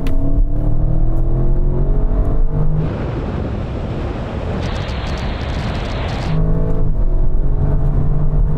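An Audi RS7 and RS6 launch side by side in a drag race, with a loud roar of engines and an exhaust that builds and surges through gear changes, close and continuous.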